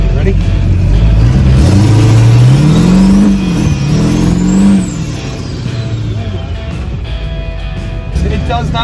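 A diesel-powered Chevelle accelerates hard, its engine note climbing and falling through loud, close revs before settling into a steadier drone.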